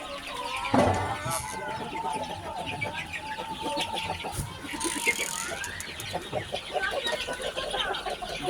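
Chickens on a farm cluck in short, scattered bursts near and far, with a few louder calls standing out over a busy, continuous background of hens.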